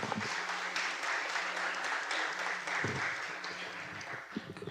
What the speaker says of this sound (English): let's give it up a round of applause for everyone who made it through to here tonight